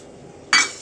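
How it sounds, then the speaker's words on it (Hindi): A utensil clinks against a pan as sugar goes in during home cooking of a ginger remedy, one bright metallic clink after a quiet stretch, close and brief. "अभी अभी इसमें अपन डालेंगे, मैं डाल रही हूँ देखो शक्कर"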